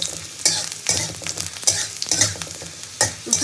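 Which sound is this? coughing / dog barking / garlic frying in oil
garlic frying in oil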